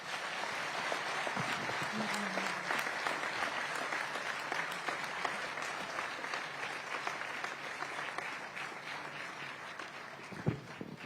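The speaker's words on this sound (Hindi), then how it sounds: "तो मैं चाहूंगा कि डीसीपी दर्जे के हमारे इस डेडली टीम को आप लोग तालियों से स्वागत करें." A seated audience at a Surat police event gives sustained, even applause to welcome a team of DCP-rank officers. Many hands clap in a dense, moderately distant patter that continues for about eleven seconds.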